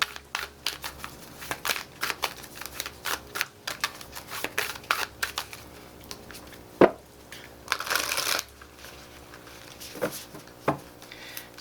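Advice cards are shuffled by hand at close range during a pick-a-card reading, a quiet run of riffles, slides and taps with a louder flurry partway through, no voice over it.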